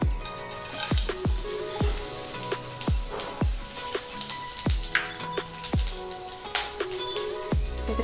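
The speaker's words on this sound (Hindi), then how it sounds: "तेल एथर गरम हो गला मु गोटा मसला गुड़ा सब पकईदेवी" Spices frying in hot oil in a wok for a vegetable egg masala curry, a steady loud sizzle punctuated by repeated sharp clanks of a utensil against the pan.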